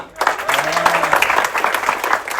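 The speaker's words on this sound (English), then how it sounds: "Big applause Ramona." Sustained audience applause during crew introductions aboard the Amadeus river cruise ship, a dense wash of many hands clapping that fills the room, with a voice speaking briefly over it.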